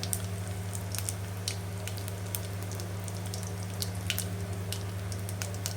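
Broken dried red chillies sizzle in hot tempering oil, a quiet continuous crackle dotted with small sharp pops over a low steady hum.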